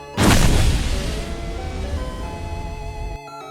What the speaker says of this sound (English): slamming his trident into the floor, causing a small explosion and dealing some pretty good damage